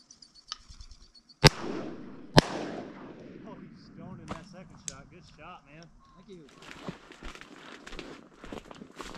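Two loud 28 gauge shotgun blasts about a second apart outdoors while duck hunting, each with a trailing echo, followed by rustling movement and people talking.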